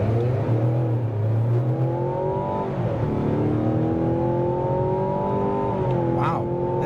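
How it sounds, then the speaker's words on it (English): A 2024 Mazda CX-90 plug-in hybrid Premium with a 2.5-liter four-cylinder engine accelerates hard from a standstill to 65 mph, heard from inside the cabin. The engine note climbs steadily through several gear changes, loud and continuous. "See what this acceleration looks like from 0."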